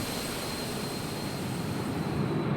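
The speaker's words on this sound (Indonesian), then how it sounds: "Pesawat ini meninggalkan kota Bandung tepat pada pukul" An animated reconstruction of Lion Air flight JT 904 departing Bandung, with the airliner's engines giving a steady, loud broadband roar that holds without pause and no voices over it.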